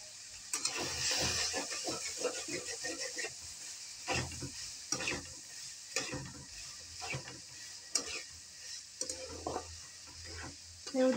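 Soybean chunks frying in a pan with a soft, low sizzle broken by regular scraping stirs of a spatula, fairly quiet and close.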